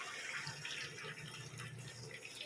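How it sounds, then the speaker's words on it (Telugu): Water is poured into a pot for cooking biryani, making a soft, steady gushing splash that is faint and continuous throughout, with no talking. "water water వేసిస్తున్నాం"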